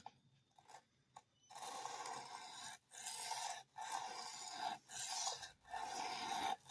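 Steel blade being thinned and flattened on a sharpening stone during a regrind, producing repeated rasping push strokes with brief pauses between them, close and fairly loud, with no talking.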